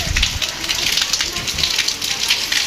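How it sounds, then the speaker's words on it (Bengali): Heavy rain pours down in Faridpur town during a storm, a constant hiss of falling water with small surges, loud and close throughout. "প্রচুর পরিমাণ বৃষ্টি নামতেছে রাত থেকে"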